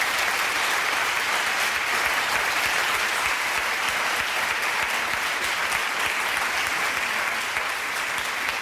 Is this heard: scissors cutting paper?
no